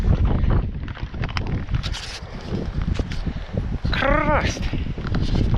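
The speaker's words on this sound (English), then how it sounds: "At least the wind isn't as brutal on this side." Strong wind on a mountainside in the Outeniqua mountains roars and buffets the microphone throughout, loud and constant, while someone speaks briefly and a short whistling sweep cuts through near the end.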